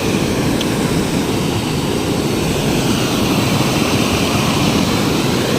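Water roars steadily through the open gates of Dantiwada dam into the river below, a loud, unbroken rushing wash with no voices.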